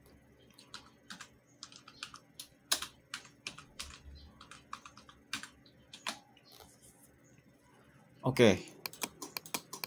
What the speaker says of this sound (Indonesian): di sini kita bisa langsung mengetik ya